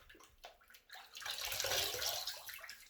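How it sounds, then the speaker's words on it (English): Tap water runs onto a washcloth held under it at a bathroom sink, starting with small splashes and swelling into a steady, close, fairly loud gush with no one talking. "let me get my cloth here wet"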